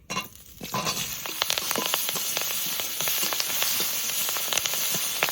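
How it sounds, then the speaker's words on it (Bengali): Sliced onion, slit green chilies and cumin hit hot fish oil in a pan, with a quiet moment before a loud, crackling sizzle bursts up and stays steady and close, no one speaking. "কোচানো পেঁয়াজ, মাছের তেল ভাজবো"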